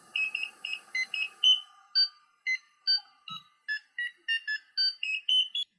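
A small piezo electronic buzzer driven by a Raspberry Pi beeps out a quick melody of short, shrill tones at changing pitches, clear and alone against silence.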